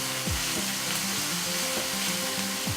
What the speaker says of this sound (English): tablespoonful of the ground masala and fry till the oil separates.